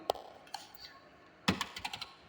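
A few keystrokes on a computer keyboard while a Google search is typed, quiet and close: a couple of isolated taps, then a short quick burst of clicks.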